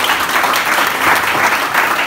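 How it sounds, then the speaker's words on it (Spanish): Loud, dense applause from a church congregation during an evangelical service, sustained and close, with the clapping filling the room throughout. "Denle un aplauso a Dios"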